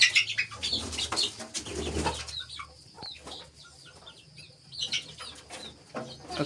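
Chickens of mixed ages on a small local farm in Nepal, with scattered clucks and wing flaps, soft and fairly close, over a quiet yard.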